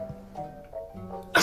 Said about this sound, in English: Enough of the sneezing.